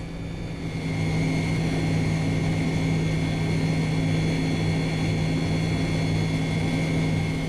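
In the X-Plane 10 flight simulator, the engines of an MD-80 airliner drone at a steady pitch, a constant tonal hum that swells slightly after the first second and then holds level.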